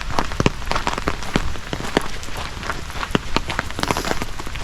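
Steady rain patters on a surface nearby, with scattered sharper drops tapping irregularly throughout and no voices.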